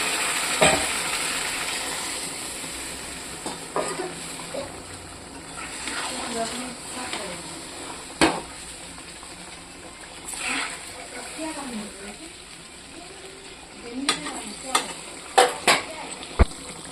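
Curry sautéing with spices in a pan gives a steady, soft sizzle with a few scattered clinks of a spoon against the pan, under a voice talking.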